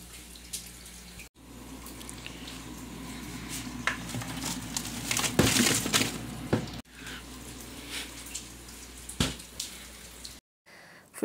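Running tap water splashes over a greasy frying pan being washed in a sink before frying sausage, with an uneven patter and a few louder bursts of spray, close by and without talk.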